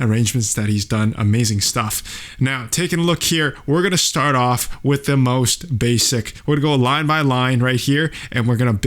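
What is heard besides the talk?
None of the usual background noises is heard.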